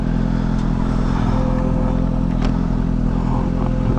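Motorcycles set off on a motocamping ride along the Pacific Coast Highway. A steady, close engine drone runs throughout with a light clatter.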